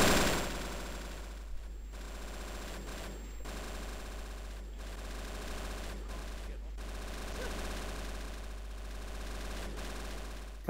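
Steady video-game gunfire runs throughout, with repeated bursts and sharp shots from a shooter game, sitting fairly loud and continuous under a dense mix with little clear talk.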